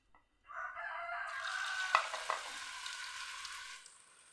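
Small batch of Shan food frying in hot oil in a pan, a bright steady sizzle that starts abruptly and holds, with a couple of stirring clicks midway, close and alone.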